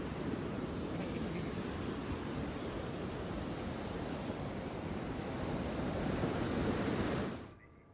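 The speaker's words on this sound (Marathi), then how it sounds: "या ठिकाणी पाणी वाहत आहे, त्यामुळे हा रस्ता पाण्याखाली गेलाय" Floodwater rushing over a submerged road in the Kolvan valley during heavy monsoon rain, a dense steady roar of flowing water, loud and unbroken, cutting off abruptly at the end.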